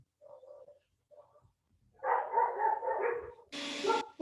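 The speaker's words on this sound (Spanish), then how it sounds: "Acá tengo música de concierto con un perro." Strained, bark-like cries from a dog set into a concert music recording: a few faint separate yelps, then a louder run of ragged howling barks and a final bright burst, with no talking.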